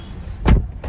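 A car drawing up, its engine and tyre noise swelling in a short burst at mid-clip before easing off, with a faint second rise at the end; no voices.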